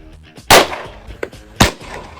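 A Makarov MP-79 TM traumatic pistol fires two loud, sharp shots about a second apart at close range, each with a short decaying tail in an otherwise quiet space.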